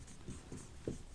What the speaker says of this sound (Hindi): आइए हेडिंग लिखते हैं स्टूडेंट्स पहले